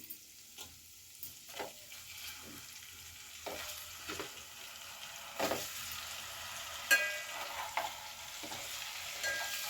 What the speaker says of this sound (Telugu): కొంచెం కారం వేసుకుని అప్పుడు గుడ్లు వేపుకుందాము